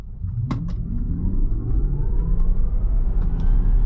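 A Tesla Model Y electric car accelerates hard, giving a steady, loud low rumble of road and motor noise that builds slightly over the run, with a brief sharp click near the start.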